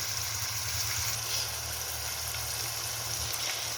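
Chicken pieces fry in a pan with a soft, steady sizzle, faint and continuous, under a low constant hum, with no talking.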